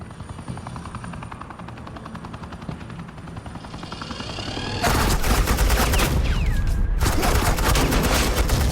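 Agent Quinn lays down suppressing fire in the video game Batman: The Enemy Within. A helicopter-like hum builds, then bursts into loud, continuous rapid gunfire with a brief gap before resuming.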